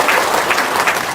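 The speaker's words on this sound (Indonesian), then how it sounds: "Tepuk tangan dong." Brief burst of audience clapping at a seminar in Indonesia, a dense, steady patter lasting just over a second.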